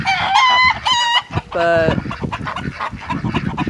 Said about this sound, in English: my roosters are too loud